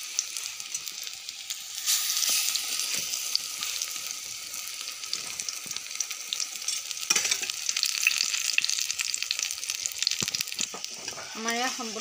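Brinjal (eggplant) slices frying in hot oil in a pan give a steady close sizzle and hiss throughout, with occasional scrapes and clinks as the pieces are turned.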